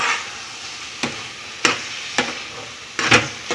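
Cardamom frying in a pan is stirred with a spoon, giving a steady sizzle broken by several distinct scraping strokes, close and fairly loud, with no voices.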